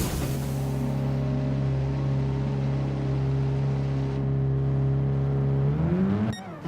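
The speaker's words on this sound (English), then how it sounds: "As we exit the pits, so we exit in first place, and then Henny Bez actually pits with me" A Gran Turismo Sport race car pulls out of the pits during a GR.2 championship race, its engine holding a steady loud drone with stacked harmonics for several seconds before the pitch rises and then cuts off abruptly.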